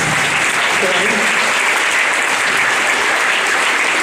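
Sustained, dense applause from an audience saluting an orchestra's string section, steady and loud throughout with a faint murmur of voices beneath.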